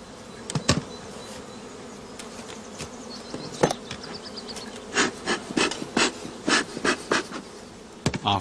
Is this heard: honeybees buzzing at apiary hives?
yes